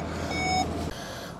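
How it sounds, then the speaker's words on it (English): An electronic beep sounds steadily from a VW eGolf electric car for about half a second over a loud, constant background rumble, then stops; a brief thump follows. "Yeah, go beep. Beeping is good."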